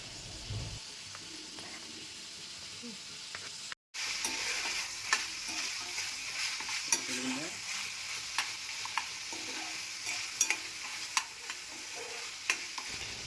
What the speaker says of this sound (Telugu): ఇప్పుడు కీమా వేగుతుంది కదా